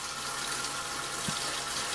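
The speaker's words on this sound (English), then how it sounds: "you have a blue switch which is for flushing the loo. I don't know if you can see the water coming through there." A caravan toilet flushes with a steady, close rush of running water that holds at an even level throughout, with no talking.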